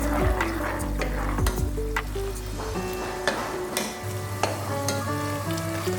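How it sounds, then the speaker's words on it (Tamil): Ghee made from milk cream heats in a wide pan while a spoon stirs and scrapes it, a steady close sizzle with clinking strokes against the metal. "இப்போ நெய் எப்படி காய்ச்சலாங்கிறத பார்க்கலாம்"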